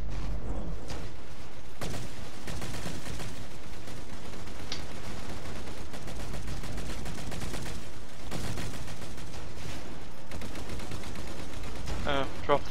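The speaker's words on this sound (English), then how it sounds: "Back to our assault rifle, please." Rapid assault rifle fire in Star Wars Battlefront 2 during a one-flag capture-the-flag match, dense continuous bursts and distant blasts throughout, with a player talking over the gunfire.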